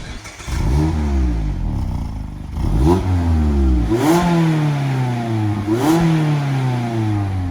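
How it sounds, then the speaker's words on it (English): A Mazda MX-5 ND's four-cylinder engine revs loudly and close, pitch climbing in four or five repeated sweeps with brief drops between as the throttle is blipped and released. "Just one last time on the sound of that engine. It doesn't sound bad for a 4-cylinder."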